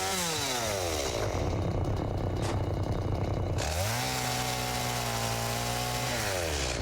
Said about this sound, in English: I've got a chainsaw.